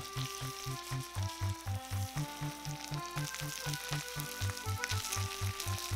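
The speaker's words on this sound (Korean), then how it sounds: "닭고기를 팬에 다 올리면 버터를 한 덩이 넣고 앞뒤로 잘 구워주세요." Chicken sizzles and spits steadily in butter in a hot pan, with a rhythmic thumping pattern running underneath and no voices.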